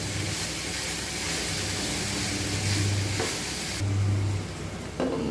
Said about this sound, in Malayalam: ഒരു ലേശം മഞ്ഞപ്പൊടി നല്ലപോലെ ഇളക്കി മിക്സ് ചെയ്ത് കൊടുക്കും